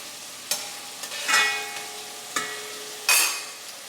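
Sofrito frying in a pan while a spoon stirs it, a soft sizzle underneath with a few distinct scraping clinks of the spoon against the pan.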